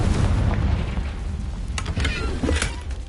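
A Confringo fire spell in Hogwarts Legacy bursts into a rumbling, booming explosion with crackling debris, loud and sustained for several seconds.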